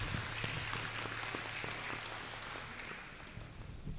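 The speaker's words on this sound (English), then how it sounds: "give a round of applause to all our speakers" Applause from the audience at a university economics book launch, a moderate, even patter of clapping that holds for several seconds and fades slightly near the end.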